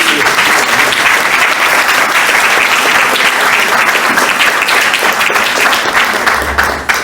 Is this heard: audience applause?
yes